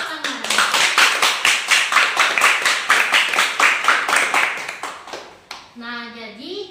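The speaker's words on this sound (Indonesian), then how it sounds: "Mari kita tepuk tangan." A group claps together in a fast, steady rhythm for about five seconds, loud and close, and then the clapping stops and a voice follows.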